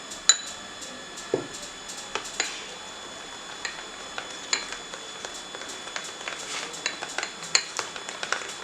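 A metal spoon clinks and scrapes against a bowl while red food colouring is mixed into homemade sugar sprinkles, giving irregular close taps and light scraping with no talk.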